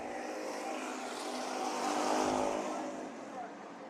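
Race cars roar past during a heat race at Bakersfield Speedway, a loud engine drone that swells to a peak midway and then fades, heard without talk over it.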